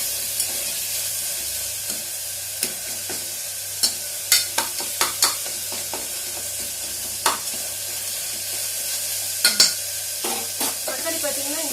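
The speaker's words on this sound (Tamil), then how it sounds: "ஸோ ஓரளவுக்கு தக்காளி வதங்கினா போதும்" Tomatoes sauté in a pan for black-eyed pea biryani, giving a soft, continuous sizzle close by, broken by irregular scrapes and taps of a spoon stirring.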